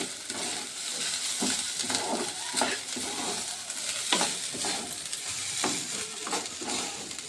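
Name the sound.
rice being stirred and fried in a pan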